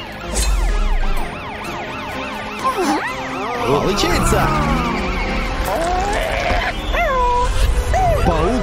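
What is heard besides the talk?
police car siren in a children's cartoon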